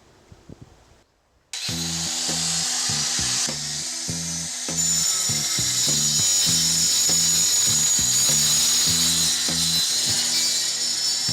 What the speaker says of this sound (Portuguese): você liga a maquita e se aproxima da parede. Depois, você começa a fazer o corte